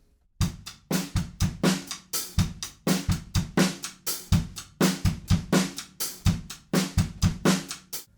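A drummer plays a steady pattern of sharp rim clicks and snare drum hits, the strikes coming close and evenly spaced with occasional accented snare cracks.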